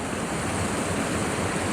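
Steady rushing water of a long natural waterfall cascade at a recreation area in Marinette County, Wisconsin, a constant broadband roar heard alone without any voices.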